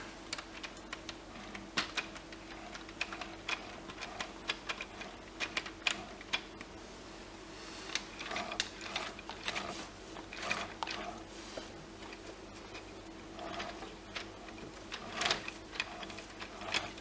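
Plastic Lego Technic Lamborghini Sian gearbox being worked through its gears by the paddle shifter in the steering wheel, giving a steady run of small dry clicks and ticks close up, with no talking.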